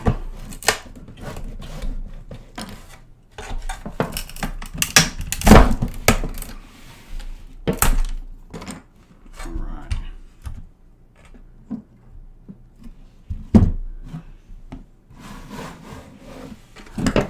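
An electric grass trimmer's plastic housing is pried and pulled apart by hand, giving close, irregular cracks, creaks and scraping rubs, with a few sharp snaps standing out among quieter handling noises.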